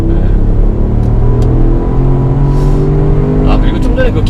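A Porsche Cayenne Turbo SUV of over two tons works through corners on the Inje circuit, its engine a loud sustained drone with shifting pitch, while occupants talk over it from inside the cabin.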